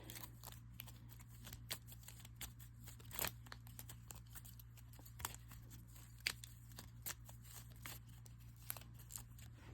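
Playing cards are shuffled quietly and repeatedly, giving soft papery riffles and clicks over a low steady hum.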